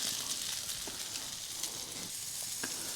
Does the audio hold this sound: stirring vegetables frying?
yes